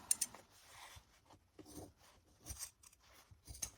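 Scissors snip through thick denim from skinny jeans in a few short, crisp cuts with pauses between, close and fairly quiet.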